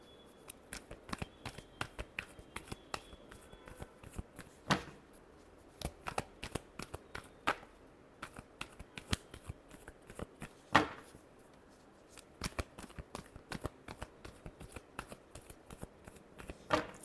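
Tarot cards are shuffled by hand over and over, giving crisp riffling snaps in an irregular rhythm, close and fairly loud with brief pauses and no talk.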